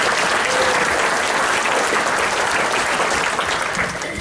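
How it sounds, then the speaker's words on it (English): An audience at a Republican gathering in Casper applauds the county commissioners, with dense, loud, continuous clapping from a crowd that holds steady and tapers slightly at the close. "round of applause for our commissioners"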